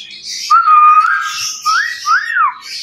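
An Indian ringneck parakeet whistles loud and close, with several clear notes that glide up and down, including a sustained tone and two arching swoops, over about three seconds.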